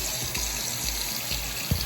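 Running tap water rinsing a toothbrush at a bathroom sink, a steady close splashing stream with a few soft knocks and bumps as the brush is moved under it.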